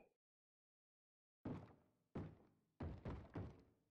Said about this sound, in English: I got a zombie banging at my door again.